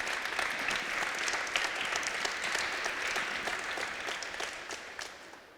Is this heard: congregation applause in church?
yes